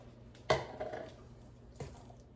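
Four cups of freshly grated mozzarella cheese tumble into a bowl of hot onions for stuffed manicotti, a soft squishy thud followed by faint scraping and a second muffled plop, close and quiet.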